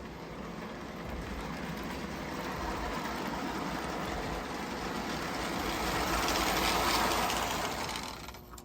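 A small Marx toy electric train with E-7 diesel locomotives hums and rattles steadily along its track, the whirring growing slightly louder as it nears, then fading.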